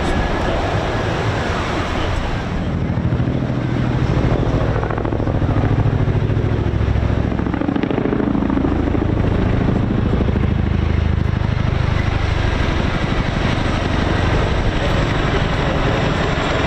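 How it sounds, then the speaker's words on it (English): A Chinook helicopter flying a display at the Bournemouth Air Festival gives a continuous heavy rotor roar, loud and steady throughout, with crowd and commentary mixed into the wash of noise. "Everyone on 27 Squadron are extremely proud to be bringing you the 2022 Chinook Display."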